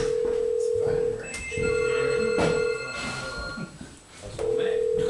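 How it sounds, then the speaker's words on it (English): A Telstra touch phone rings with an American-style ringtone, giving repeated steady electronic tone bursts with short gaps while people talk over and between the rings. "Got American ringtones. That's a Telstra touch phone."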